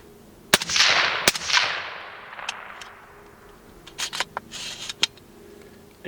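Suppressed shots from a .224 Valkyrie rifle fitted with a universal, non-caliber-specific suppressor: two sharp, close reports early on, each with a long hissing tail, then a scatter of smaller clicks and cracks.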